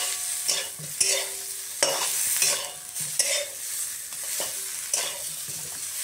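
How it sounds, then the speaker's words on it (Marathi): Stuffed brinjals with turmeric sizzle in a pan as they are stirred, with repeated close scraping strokes over a steady frying hiss. "आणि आपण ही भरलेली वांगी तर टाकूया त्याच्यामध्ये, घेऊया मस्त पैकी"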